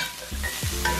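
Curry rice frying in a pan while being stirred, a close sizzle broken by a few scraping strokes of the utensil, short and brisk, no voices.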